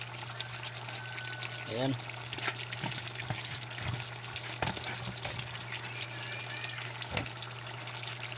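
Malunggay leaves drop into squash simmering in coconut milk and are stirred, giving a soft, steady sizzle with occasional scraping of the spoon. Someone talks over the cooking.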